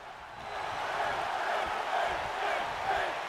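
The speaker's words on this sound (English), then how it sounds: "The crowd chanting Finn." A large arena crowd in a WWE 2K wrestling game, a broad continuous roar with a rising and falling chant carrying across the whole stretch, no talk over it.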